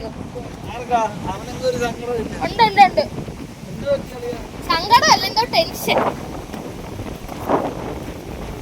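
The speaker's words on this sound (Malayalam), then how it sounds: "എന്തൊരു കാറ്റ്" Strong wind buffets the microphone on a beach at night, a rough low rush running beneath close, lively conversation among several people.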